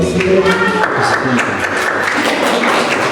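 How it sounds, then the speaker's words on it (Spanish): An audience at a writers' gathering in Huancavelica applauds to welcome a writer, a dense, steady patter of clapping at close range with some talk mixed in. "vamos a recibir con unos palmas fuertes a Luz Gina Galvez Árabe"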